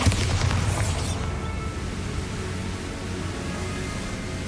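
A Bombarda spell goes off in Hogwarts Legacy, a deep booming blast with a rushing burst at the start that settles into a sustained low rumble.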